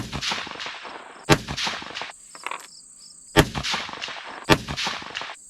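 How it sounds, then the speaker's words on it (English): A 6mm Dasher rifle loaded with Varget powder fires outdoors. It gives sharp, loud cracking reports that ring out over a steady background of chirping insects. "All right, I'm gonna go ahead and shoot this."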